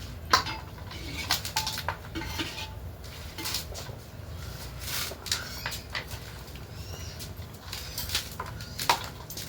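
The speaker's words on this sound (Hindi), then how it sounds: "और अब डालेंगे यहाँ पर हम ये मटन।" Mutton dropped onto spices in a handi cooked over coal brings a string of faint metallic clinks and scrapes of utensils against the pot, scattered irregularly through a quiet kitchen with no talking.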